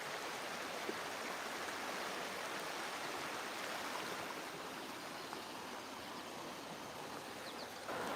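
Steady, soft rushing of flowing river water, a constant broadband wash with no voices.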